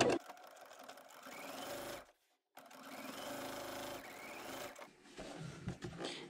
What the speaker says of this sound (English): So let's go ahead and sew that down.